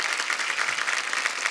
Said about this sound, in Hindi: जोरदार तालियां पूरी स्टारकास्ट के लिए।